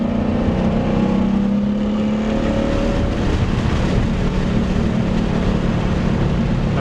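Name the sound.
car accelerating at full throttle on race track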